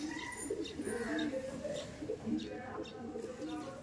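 Madrasi pigeons coo softly in low, repeated murmurs close by, mixed with other faint bird chirps and a voice talking.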